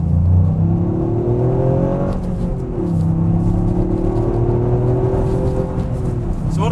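Toyota GR Yaris three-cylinder engine revving, loud and close, its pitch sweeping up and easing back in long rising and falling tones over a deep steady rumble.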